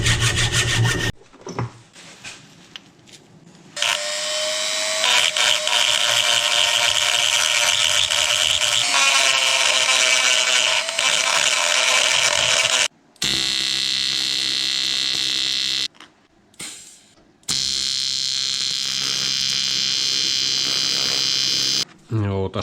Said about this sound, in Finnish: Mä teen sillä, että mä katkaisen tämän ja sitten käännän tuota ja hitsaan sen takaisin.